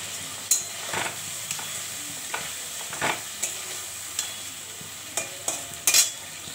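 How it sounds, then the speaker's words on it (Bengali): Cashews and peanuts fry in oil with mustard and chili, a soft steady sizzle broken by repeated scraping clicks of a spoon stirring the pan at irregular intervals. "এবার বাদাম, দু রকমের বাদাম, কাজু আর চীনা বাদাম দিয়ে দিলাম। এবার ভালো করে নাড়ব।"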